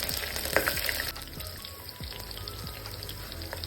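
Onions and green chillies frying in oil in a pan for veg pulao give a steady sizzle that runs the whole time, with a few sharper crackles and clinks near the start.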